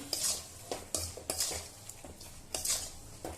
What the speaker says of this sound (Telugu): ఇప్పుడు నిమ్మరసం వేసి బాగా కలుపుకున్నాం